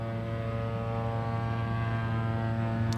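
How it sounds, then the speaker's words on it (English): A seaplane takes off near an airport, its propeller engine giving a steady, droning hum with strong low harmonics that holds evenly throughout, moderately loud and without any talking. "I hear a seaplane taking off."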